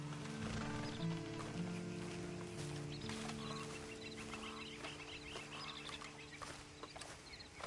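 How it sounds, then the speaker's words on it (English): Horse hooves clip-clop at a steady walk in the Red Dead Redemption Online beta, mixed with clucking chickens and a sustained droning ambience that runs throughout. "Then you better get on this horse."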